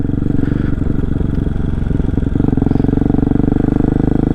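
Fuel-injected Honda Hawk DLX motorcycle engine running loud and close, a steady throbbing exhaust pulse with a slight rise in revs partway through, no talk.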